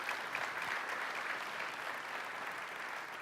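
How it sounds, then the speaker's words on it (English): Steady, dense applause from a conference audience at a security event's closing ceremony, filling the whole stretch at an even level with no talk over it. "So give them a quick clap,"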